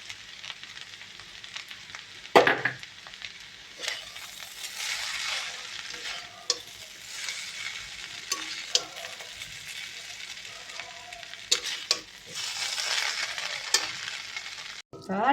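Hakka chow mein noodles are stirred and tossed in a hot pan, with a continuous loud sizzle and repeated scraping and clattering strokes of a utensil over about fifteen seconds, no voices present.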